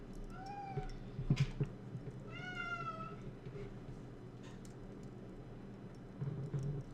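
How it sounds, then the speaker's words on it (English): A house cat meows repeatedly indoors during jewelry making, with a few distinct rising-falling calls close by over a low steady room hum, ending in a short rustle. "this cat is trying to drive me insane"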